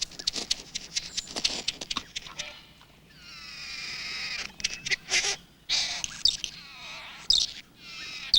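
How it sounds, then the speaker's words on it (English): Bowerbird calling at its bower in Australian bushland, a varied run of harsh clicks and rasping notes, then sustained whistly chattering phrases, fairly close and clear, with short pauses between bursts. "The bird also chants and dances"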